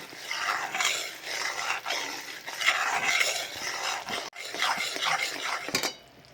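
Ghee and jaggery are stirred in a pan for broken-wheat sukhadi, with close, rhythmic scraping and swishing strokes repeating about once a second, without any talking.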